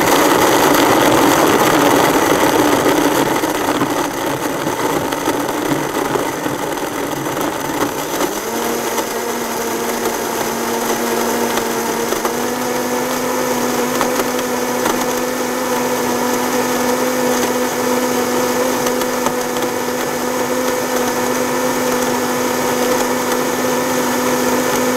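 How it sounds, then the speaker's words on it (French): A high-speed blender whirs continuously while mixing homemade plant milk, a loud, steady motor drone that shifts pitch slightly as the contents blend, close by and alone without talk. "Allez, on va commencer à mixer."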